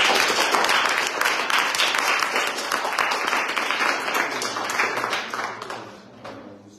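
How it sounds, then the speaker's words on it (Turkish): Applause from an audience honoring a teacher at a Turkish community event, dense steady clapping that carries on loudly for several seconds before thinning out near the end. "Bir alkış alalım Ömer Hoca'ya."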